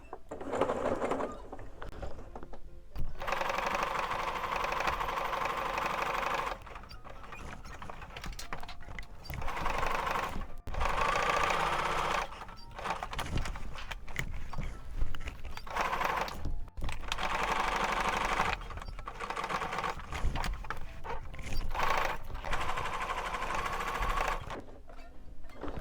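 A sewing machine stitches fabric for a lined placemat, running in loud mechanical bursts of rapid whirring separated by brief pauses where the work is turned.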